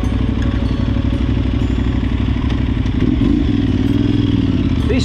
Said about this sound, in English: This bike is sounding more and more like a 990.